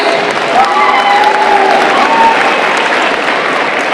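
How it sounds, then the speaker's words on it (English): Steady, dense applause from a rally audience fills the hall, loud and continuous for several seconds, with a few cheers and whoops rising above the clapping. "Let's give them a round of applause."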